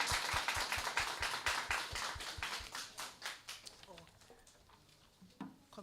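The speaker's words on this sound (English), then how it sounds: "Please join me in giving them a round of applause." Seminar audience at a law school legal aid clinic fair giving a round of applause, close rhythmic claps at first, then thinner scattered clapping fading as a voice starts talking.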